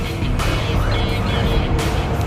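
A WLTOYS 124019 remote control car with a brushless motor driving fast, a loud, steady high-pitched electric whine with gritty wheel noise, close and continuous.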